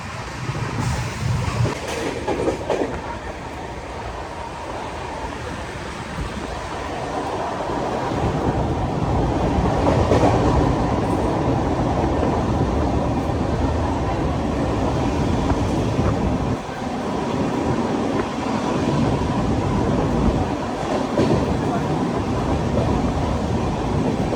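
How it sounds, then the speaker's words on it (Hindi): Mumbai–Delhi Yuva AC Superfast Express running at about 130 km/h: a loud, steady roar of wheels and wind from inside the moving train, continuous throughout and swelling slightly midway, with no talk. "डाणू रोड के बाद हमारी ट्रेन ने जो 130 का एमपीएस पकड़ा है"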